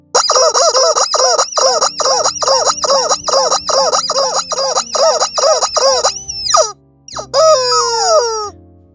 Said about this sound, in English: I got a big giant red rubber chicken. I'll squeeze all the air out of that baby.